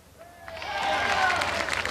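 An audience at the Minnesota State Fair applauds a juggler. The clapping swells quickly after a brief quiet start and holds at a moderate level from a mid-distance crowd.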